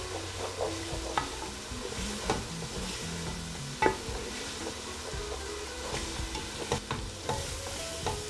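A chicken curry mixture sizzles in oil in a pan while a utensil stirs and scrapes it, giving soft irregular knocks over a steady low frying hiss at close range.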